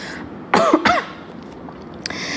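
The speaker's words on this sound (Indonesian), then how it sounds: "Maaf ya karena lagi batuk darling." Two sharp coughs close together from a person with a cold, near and loud, followed by a faint throat sound.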